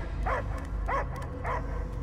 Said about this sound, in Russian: Я только лай слышу.